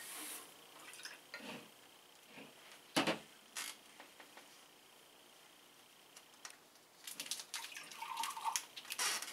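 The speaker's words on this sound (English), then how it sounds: "pour the cold water back into this measuring cup" Cold water poured into a measuring cup, with splashing and trickling bursts that come in uneven spurts, some pauses between, and a fuller pour near the end, heard up close with no talking.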